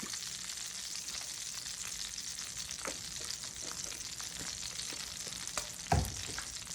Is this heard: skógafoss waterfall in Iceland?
no